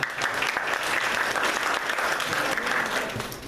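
An audience applauds a student in a dense, continuous burst of clapping that holds steady and fairly loud throughout, with no voices over it.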